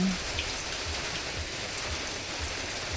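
Steady rain falls continuously, a dense even patter of drops on surfaces at moderate level, with no voices over it.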